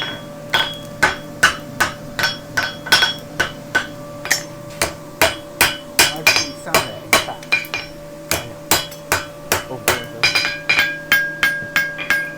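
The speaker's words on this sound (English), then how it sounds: "round part of the hammer on the bick of the anvil, starting at the bottom and just working your way up, little hits" A hammer's rounded face strikes a horseshoe on the bick of an anvil to shape it, delivering a steady run of about thirty light, ringing metallic hits, close and clear, over a faint steady hum.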